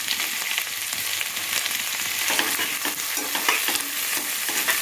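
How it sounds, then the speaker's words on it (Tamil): Onions, crushed shallots and green chillies sautéing in a pan for a horse gram rice dish, a loud continuous sizzle with the rough scrape of a spoon stirring throughout, up close and without speech. "இந்த அளவுக்கு வெங்காயம் வதங்கினதுக்கப்புறம் நம்ம நசுக்கி வச்சுக்கிற அந்த சின்ன வெங்காயத்தை போட்டுக்கலாம் சின்ன வெங்காயம் பச்சை மிளகாய் எல்லாமே போட்டுக்கலாம்"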